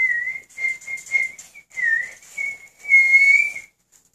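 A loud, clear whistle in a series of sustained notes with short pauses between, ending on a longer held tone; no talking.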